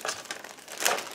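A plastic bag from a 1/32 Special Hobby Yak-3 model kit crinkles close up in a brief burst of rustling, a louder crackle near the end, with no voices.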